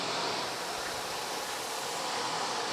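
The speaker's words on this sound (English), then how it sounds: "Vacuum on, brush roll set to hard floors." Eureka bagless pet-friendly canister vacuum cleaner running with the brush roll set for hard floors, a steady even whoosh of motor and airflow with no pauses and no speech.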